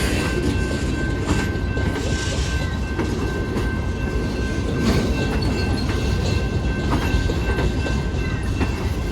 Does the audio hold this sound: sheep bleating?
no